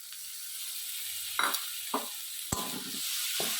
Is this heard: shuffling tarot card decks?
no